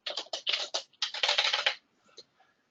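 Quick bursts of typing on a computer keyboard, close and crisp, with two clusters of rapid keystrokes followed by a few scattered taps as it trails off into quiet.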